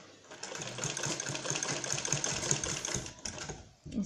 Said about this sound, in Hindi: यहाँ पे सिलाई करेंगे